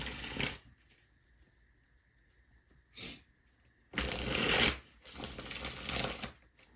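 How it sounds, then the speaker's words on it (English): Tarot cards being shuffled by hand, several crisp riffling bursts separated by pauses, close and clear with no talking. "let me shuffle the cards and see what comes out for you"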